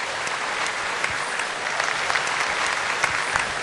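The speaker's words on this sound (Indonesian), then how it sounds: "Tepuk tangan dong untuk Pak Yusuf Kala." Studio audience at a televised talk show applauding Pak Yusuf Kala, dense sustained clapping from many hands, loud and even throughout with no break.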